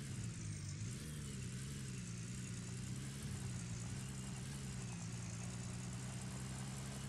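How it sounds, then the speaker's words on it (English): A pickup truck engine idles steadily in the Gold Rush game, a continuous low rumble close by with no one talking, and no clear start-up crank is audible. "Start the engine."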